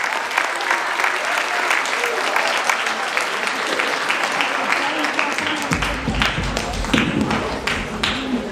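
School audience at a centennial celebration applauding, dense sustained clapping from a crowd throughout, with a few cheers and a voice near the end.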